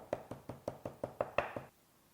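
Beef being pounded with a tenderizer while preparing hwayangjeok skewers, nine evenly spaced dull knocks in steady rhythm, close and moderately loud, then sudden quiet.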